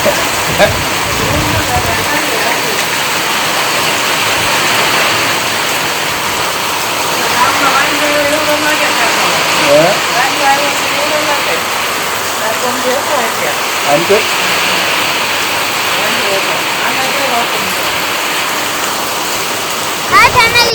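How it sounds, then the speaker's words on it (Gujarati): A river runs during rain, giving a steady loud wash of rushing water and rainfall throughout, with faint scattered sounds mixed in. "આજ આપણે નદી છે હાલો નદી કેવી તમને દેખાડું"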